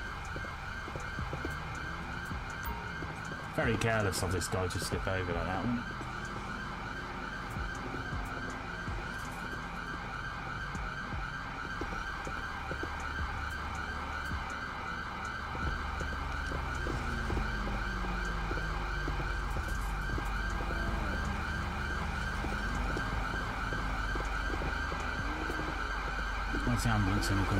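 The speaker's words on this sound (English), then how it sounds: "Right, shut your siren off." Ambulance siren in GTA with the LSPDFR police mod, a continuous wailing tone cycling steadily over engine rumble for the whole stretch, with someone speaking briefly over it early on.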